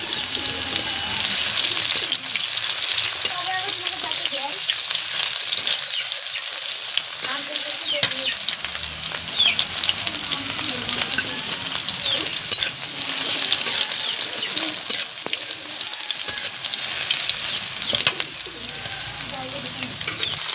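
Onions frying in a pan with cauliflower, a dense steady sizzle holding close and loud throughout, with occasional faint stirring scrapes and a brief murmur of voices in the background.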